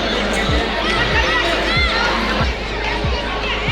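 Crowd of visitors at the Taj Mahal, a continuous dense murmur of many voices with occasional shouts and chatter, loud and close throughout.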